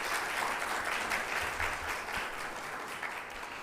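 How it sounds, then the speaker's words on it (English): An audience at a Dubai real estate investment seminar claps their hands together, a thick, continuous burst of applause that stays steady and close, slightly easing toward the end. "Let's show them some love by clapping our hands."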